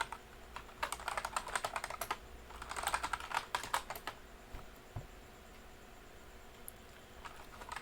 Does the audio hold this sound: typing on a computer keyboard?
yes